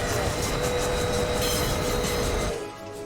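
A train from the film Night at the Museum runs with a steady, dense rumble and rattle of rolling wheels that drops away abruptly near the end.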